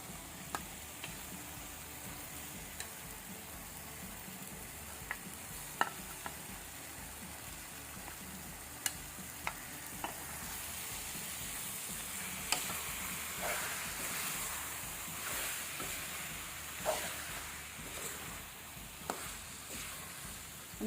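Cleaned prawns fry in a hot tempering of spices for prawn biryani, giving a faint, steady sizzle and hiss scattered with small ticks and pops, close to the pan and with no talking.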